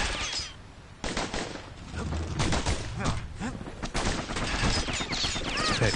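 Rapid gunfire from twin slinger pistols in the action game Bastion, a dense run of sharp shots over several seconds with a busy combat soundtrack underneath and a voice speaking over parts of it.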